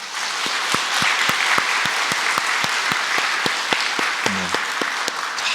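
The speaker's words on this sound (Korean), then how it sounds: "우리 이런 갈렙 같은 분을 위해서 크게 박수 한번 하겠습니다" A church congregation in Korea applauds together, rhythmic unison clapping with distinct regular beats over a softer wash of scattered claps, fairly close and steady.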